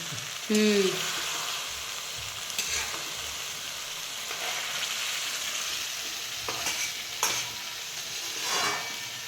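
Stuffed brinjal in a green chilli paste sizzles steadily in a pan, with intermittent scraping strokes of a spatula stirring it and a brief squeak near the start.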